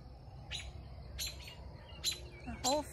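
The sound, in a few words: robin chirping by a blackberry fence line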